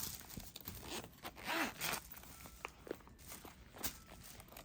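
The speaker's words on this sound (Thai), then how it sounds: "รูดง่ายมากเราชอบซิปนะคะ" A zipper slides along a handbag or wallet, several short scratchy pulls with light rustling and handling noise, close and fairly quiet, no voices.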